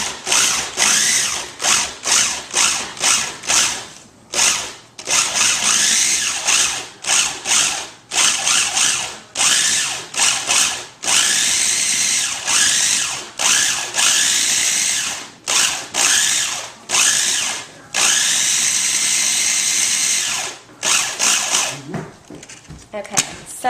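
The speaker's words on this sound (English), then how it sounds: "you can pulsate it so that the strawberries are finely chopped" A food processor chops strawberries for homemade ice cream in repeated short pulses, a loud whining motor buzz starting and stopping in quick bursts, then running in longer runs, close by.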